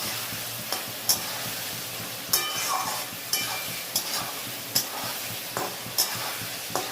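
Potatoes tipped into hot oil already sizzling with chilli spice paste for a home-style vegetarian aloo dum, giving a steady fry with repeated sharp scrapes and clinks of a spoon stirring the pan, close and fairly quiet.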